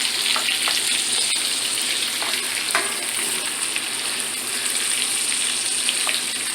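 Shrimp frying in a pan over medium heat, a steady, dense sizzle that holds evenly throughout, with a few faint clicks and scrapes on top and no voices.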